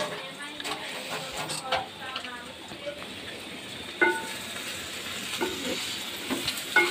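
Bitter gourd (karela bhaji) frying and being stirred in a home kitchen pan, a steady close sizzle with scraping stir strokes and small clacks throughout.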